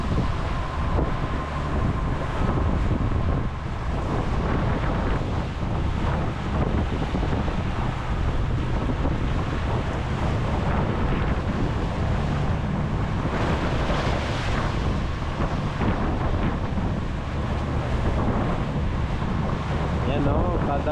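Wind buffets the microphone at sea while ocean waves wash and surge around a moving boat, a steady, rough roar with rhythmic swells throughout.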